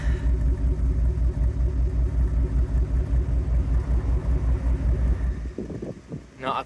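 A 1980s Bentley Eight's engine rumbles steadily while driving, a deep low drone with some wind noise, easing off near the end.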